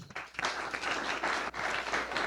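An audience at a training session gives a round of applause, a steady wash of many hands clapping, fairly faint and slightly distant, with a short dip midway.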